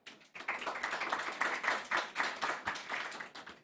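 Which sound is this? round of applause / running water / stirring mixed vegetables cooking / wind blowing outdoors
round of applause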